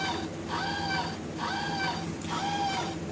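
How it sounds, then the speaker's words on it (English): A Hasbro Star Wars Imperial Star Destroyer Action Fleet toy sounds its alarm klaxon: three repeated whooping electronic tones, each about a second long, played through a small tinny speaker with hiss underneath. "That's the alarm klaxon."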